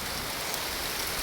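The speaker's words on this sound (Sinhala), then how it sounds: "හොඳට වහිනවා." Heavy afternoon rain pours down steadily during a downpour, a dense, even hiss of drops on surfaces that stays constant and close throughout, with no talking.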